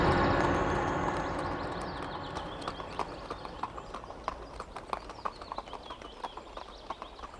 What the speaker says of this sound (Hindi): ये दूर जाते हुए घोड़े के टापों की ध्वनि।